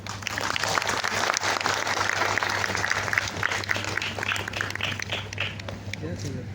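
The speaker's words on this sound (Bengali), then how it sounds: "এই অ্যাচিভমেন্টের জন্য তাদের জন্য একটা হাততালি হয়ে যাক" A school event crowd gives a sustained burst of applause for teachers and students, dense clapping that carries on evenly for several seconds before thinning slightly near the end.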